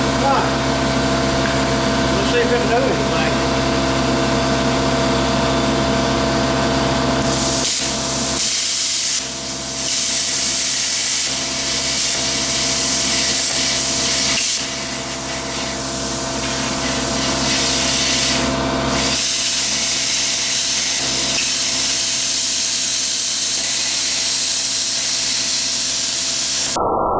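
A new plasma cutter runs with a loud, constant hissing rush of air and arc noise, close up, with brief dips and a break in the middle as the cut pauses and restarts.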